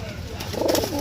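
A male Chandakhani pigeon gives a soft, brief coo close by, a single low burst over quiet background.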